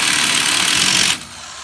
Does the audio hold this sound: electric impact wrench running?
yes